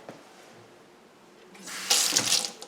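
Tap water runs from a faucet into a sink while an orchid is wetted; a soft trickle builds into a louder, steady gush with no talking.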